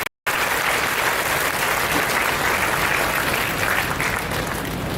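Dense audience applause at a college freshers' day event, loud and sustained throughout after a brief silent gap at the start, with a broad crowd wash and no clear speech.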